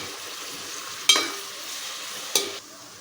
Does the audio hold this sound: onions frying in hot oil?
yes